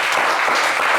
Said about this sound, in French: On vous applaudit quand même bien.